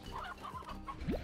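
Roosters in the video game Slime Rancher clucking: a few short bird-like calls ending in a rising squawk, faint, over a low game background.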